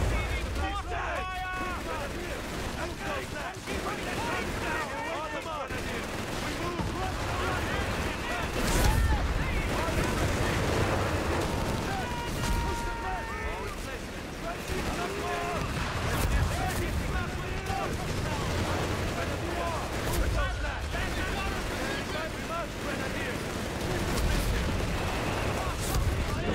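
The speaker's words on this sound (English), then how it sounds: "Receiving mortar fire!" Continuous mortar blasts and rattling gunfire in a Company of Heroes 3 battle, a dense, loud wall of explosions and shots with soldiers' voices calling out over the din.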